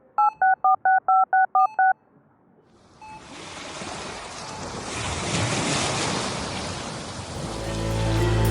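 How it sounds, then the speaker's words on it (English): A prison phone keypad gives seven quick, loud dialing beeps in a steady rhythm. A pause follows, then a wide, rushing wash of noise swells in and keeps rising. "I grab the phone and I start dialing out."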